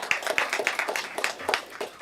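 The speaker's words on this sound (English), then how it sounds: "that deserves a round of applause" Applause at a city council meeting for a departing police chief, a brief patter of many hands clapping close by, uneven and lively, with no talk over it.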